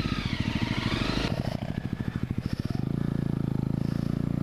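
Honda motorcycle engine ridden along a muddy green lane, a close, loud chugging single-cylinder beat that rises, stutters as the wheel slips, then settles into a steady throbbing idle.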